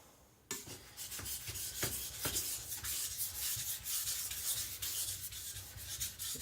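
An Ikea Chinese cleaver, a monosteel blade, scrapes back and forth across a whetstone in quick, repeated gritty strokes, close and steady, starting abruptly and continuing without any voices.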